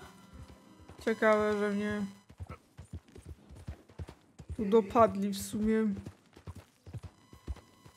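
Horse hooves clip-clop at a riding pace in the video game Red Dead Redemption 2, steady and fairly close, with a voice talking over two stretches of the clip.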